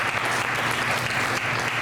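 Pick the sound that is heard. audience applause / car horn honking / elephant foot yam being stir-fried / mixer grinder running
audience applause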